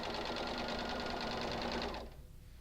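A sewing machine chain-stitches quilt pieces in a steady, fast, continuous whir close by, then stops abruptly near the end.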